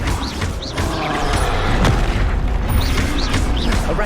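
A Flipendo spell blast from Hogwarts Legacy, cast during combat near a castle: a loud, close, sustained booming rumble with swirling magical whooshes rising and falling over it, and no voices.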